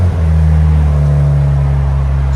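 A 2023 BMW M3 Competition with a titanium exhaust, muffler fitted and Valvetronic valves closed, idles with a loud, deep, steady rumble close by, its low drone unbroken throughout.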